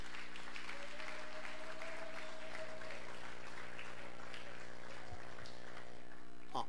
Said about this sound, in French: Est-ce qu'on peut applaudir pour la parole de Dieu?